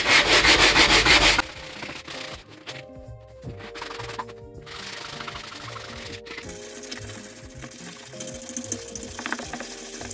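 Wood is sanded by hand with a sanding block during a bathroom makeover. A loud burst opens, then a steady, close, continuous scrubbing rasp follows with no talk.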